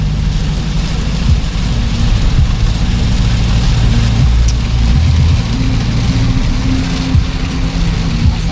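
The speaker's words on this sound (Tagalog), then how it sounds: "Grabe ang lakas ng ulan dito." Heavy rain pours down on a vehicle travelling on a road between Bilaran and Paliko, a dense, steady broadband roar that holds loud and unbroken throughout, with low road and engine rumble beneath it.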